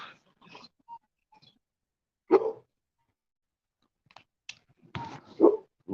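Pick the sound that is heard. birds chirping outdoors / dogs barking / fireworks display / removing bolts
dogs barking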